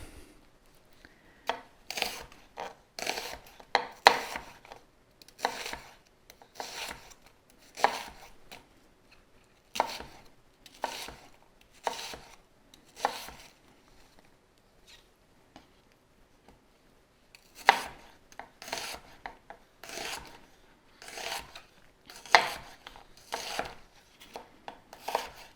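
Knife slicing root vegetables thinly on a cutting board, a steady run of crisp, close chops in quick bursts with a short pause midway, no talking.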